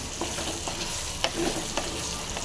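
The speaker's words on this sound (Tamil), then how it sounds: "நெல்லிக்காயை இதில் போட்டு நல்லா ஃப்ரை பண்ணிக்கணும்" Indian gooseberries (amla) frying in a pan for pickle, with a steady close sizzle and a few sharp stirring scrapes and clicks spread through.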